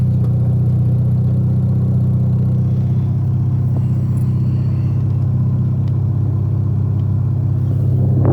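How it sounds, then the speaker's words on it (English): A Mazda RX7 FC rotary engine with a street-ported intake idles steadily with the AC compressor engaged, giving a continuous close, loud low hum and rumble with no talking. "I'll kick the AC on. RPM drops. AC compressor's on."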